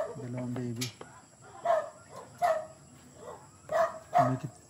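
A dog barks in a few short bursts spaced across the clip, close by, amid a rural farmyard setting with chickens and young animals, while a person talks between the barks.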